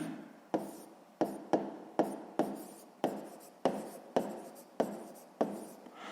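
A pen scratches across paper in rapid, regular strokes while an equation is being written, each stroke starting with a sharp tap and fading out, close and fairly quiet.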